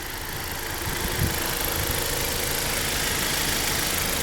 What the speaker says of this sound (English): Not a bad motor at all.